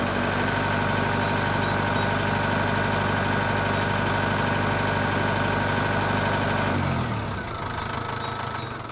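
Tractor engine idling steadily while a ground-driven fertilizer buggy is engaged at the front of the machine; a constant loud rumble that drops and changes character near the end, with no talk.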